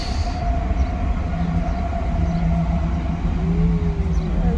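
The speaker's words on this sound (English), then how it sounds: "You can hear the train." A passing train near a London farm produces a loud, continuous rumble and rail roar with a faint tonal whine, heard close and steady throughout.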